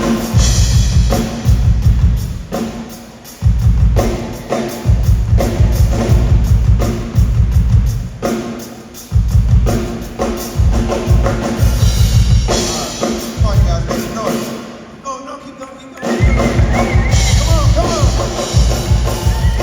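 Live drum kit playing a changed-up rhythm at a festival drum panel, loud steady beats with cymbals in repeating phrases, with brief pauses between bursts.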